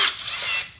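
Brief close whine of a power drill boring through metal for a catalytic converter shield on a 2015 Toyota Prius V, a steady high-pitched bite lasting under a second.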